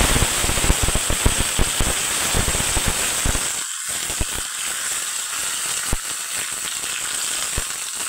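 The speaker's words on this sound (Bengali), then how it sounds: "এখন আমি দিয়ে দিব ফোড়নে সর্ষে আর দিয়ে দিব কারি পাতা।" Mustard seeds and curry leaves crackle and spit in hot oil for a Bengali tempering, a close, dense run of sharp pops over a steady sizzle, with a brief burst of louder spattering and no talk.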